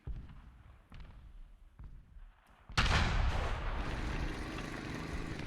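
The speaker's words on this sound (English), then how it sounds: "His gun is locking on enemy tanks." A tank gun fires in War Thunder, a few distant thuds followed by one loud close cannon blast that rolls out into a long rumbling decay.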